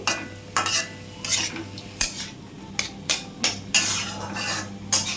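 Repeated scraping and clinking of a spoon stirring turmeric in a pan, about a dozen irregular strokes over a faint background sizzle.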